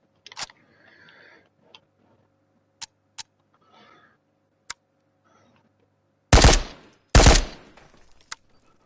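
Rifle fire in the VR shooter Ghosts of Tabor comes as two loud, close bursts of rapid shots near the end, preceded by scattered clicks and faint handling sounds in a quiet space.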